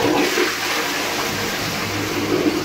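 A toilet flushing in a pub washroom, a loud, close rush of water that holds steady for a few seconds, with no voices.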